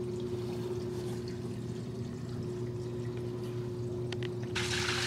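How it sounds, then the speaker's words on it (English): Tap water running steadily during a house inspection near new white PVC plumbing tied into ABS drain pipe, a constant low rush under a faint hum that brightens into a louder hiss near the end. "So here, water running."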